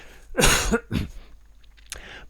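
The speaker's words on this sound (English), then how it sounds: "I'm going to have a little cough, excuse me." Two harsh coughs close to the mic, the first heavier, then a quieter throat-clearing sound a moment later.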